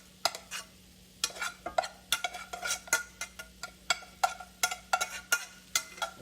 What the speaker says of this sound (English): I'm gonna mix this all together for her.